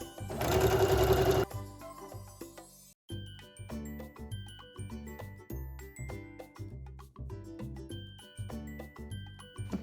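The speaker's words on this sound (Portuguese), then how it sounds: "eu venho passando uma costura em cima da nossa marcação" A home sewing machine stitches a seam over a marked line on fabric, its rapid mechanical clatter running in steady bursts with brief pauses, close and fairly quiet, after a short loud rush of noise at the start.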